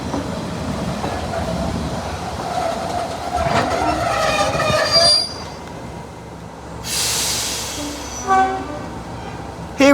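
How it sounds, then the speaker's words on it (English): Diesel locomotive 37250 pulls away from Crowcombe Heathfield station on the West Somerset Railway, rumbling and clattering over the rails with squealing wheels. Short horn-like tones sound near the end, and no voices are heard. "Here is 37250 leaving Crocombe Heathfield heading towards Minehead."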